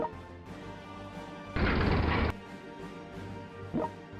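A nuclear missile strike lands in a video game battle, a single loud, harsh blast lasting under a second, framed by quieter game sounds.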